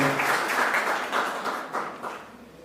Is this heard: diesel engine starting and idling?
no